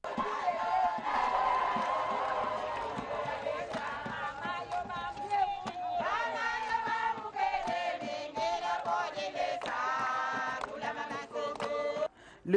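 A crowd outside a referral hospital in Lubumbashi cheers and shouts as a visitor departs, with overlapping voices, whoops and a few claps rising and falling over about twelve seconds.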